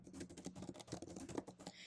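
Fingers type a short search keyword on a computer keyboard in a steady, quick run of soft, close key clicks, quiet and without talk.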